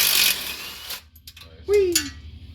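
A ratchet on a Jaguar car engine loosens a nut with short bursts of close metallic clicks, followed by a brief rising voice and more clatter.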